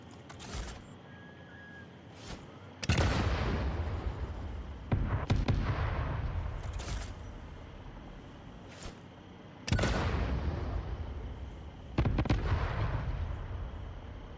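Bombs detonating in the video game Satisfactory, four heavy booming blasts spaced a few seconds apart, each a sharp loud onset that rolls off into a long rumbling decay, with no talking.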